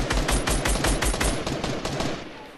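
Rapid gunfire in a Fortnite match, a fast run of sharp, loud shots through the first second and a half, then continuing bursts that thin and fade toward the end, with no talk over them.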